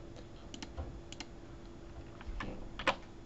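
Computer keyboard typing, a few quiet scattered key clicks and taps in short clusters, close and soft over a faint background hum, with no talk.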